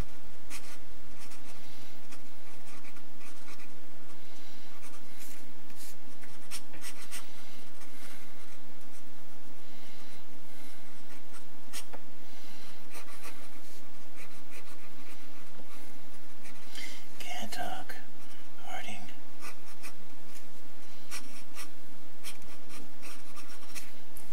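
Brush or pencil strokes from quick watercolor warm-up sketches of hair on paper, soft scratchy rubbing sounds that come and go, close and quiet, with no talking.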